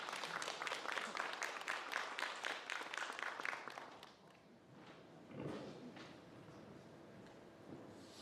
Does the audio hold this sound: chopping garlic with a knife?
no